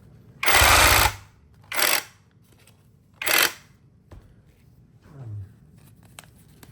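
A cordless electric heavy-duty portable bag closer sewing machine stitches in four short bursts, the first longest and loudest, with quiet gaps between and a faint clunk near the end.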